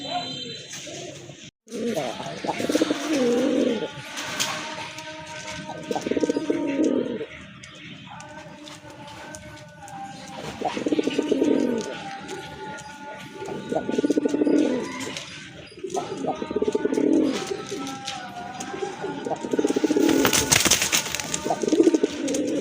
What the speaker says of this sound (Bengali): এটাও কিন্তু আপনার মাদ্রাজি কবুতর